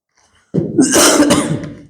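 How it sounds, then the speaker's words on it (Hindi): A single harsh, throaty cough bursts out close to the microphone after a moment of quiet, rasping briefly before trailing off. "थोड़ा सा खांसी हो गया है"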